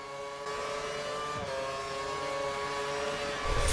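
Formula 1 race car engines in an F1 video game at the Australian circuit, a steady high-pitched whine of two cars running side by side down the start-finish straight, rising slightly at the end.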